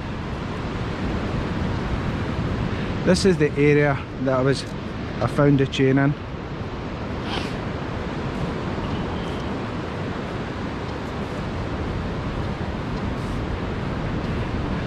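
Waves breaking on a wet-sand beach produce a steady, loud broadband surf roar through the whole span, with someone briefly talking near the microphone over it.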